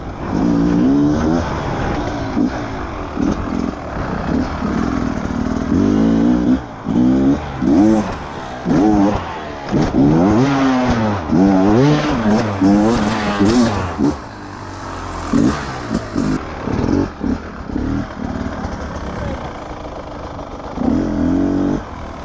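Dirt bike engine during hard enduro training through ruts, loud and close, revving up and down in repeated surges as the rider works the throttle, with brief dips between bursts.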